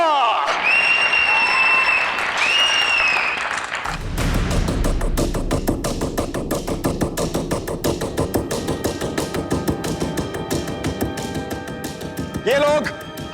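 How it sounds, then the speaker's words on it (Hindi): A studio audience bursts into dense, loud applause for a father-daughter duo about to perform aerial stunts without a net. A tonal, whistling intro comes first, then the clapping runs steadily to the end. "तो तालियों से स्वागत कीजिए शिशिर"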